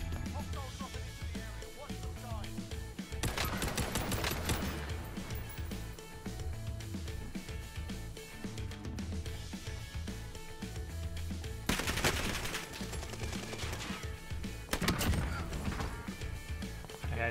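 Bursts of automatic fire from an STG 44 rifle in Call of Duty Warzone, several loud close volleys cutting through game ambience and music, with someone talking between shots.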